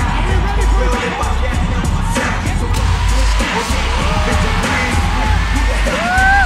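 A packed lucha libre arena crowd at Triplemanía XXII yells and whoops loudly and continuously to welcome the wrestler Místico, a dense roar of shouting voices with scattered whistles, while an announcer's amplified voice carries over it.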